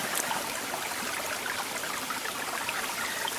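Small mountain brook in Pennsylvania trout water rushing over rocks, a steady broadband wash of flowing water, close and even, with no voices.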